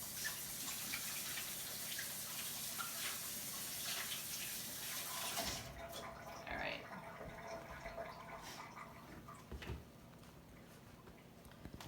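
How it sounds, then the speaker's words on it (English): Hands being washed under a running tap to clean off egg mixture, a steady close rush of water that stops about halfway through, followed by quieter kitchen handling sounds and faint drips. "So another wash the hands, because you got that egg mixture."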